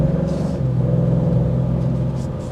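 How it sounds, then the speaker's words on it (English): A 2024 Maserati GranTurismo Trofeo's exhaust carries into the cabin as a steady low engine rumble at cruising revs, continuous and moderately loud with no talking. "I like that you can hear the exhaust filtering into the interior all the time"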